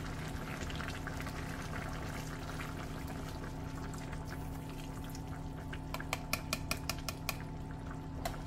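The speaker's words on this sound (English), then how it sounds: "We're gonna take one more thing of coconut milk, package of coconut powder, and mix it out and put it in there" Coconut milk is poured into a pot of curry. It makes a steady liquid pour over a constant background hum, with a few light clicks and taps near the end.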